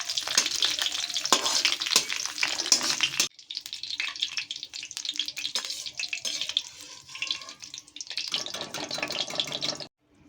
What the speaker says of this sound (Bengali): অল্প একটু ভেজে নেব, নাড়াচাড়া করে তুলে নেব, খুব বেশি ভাজতে হবে না।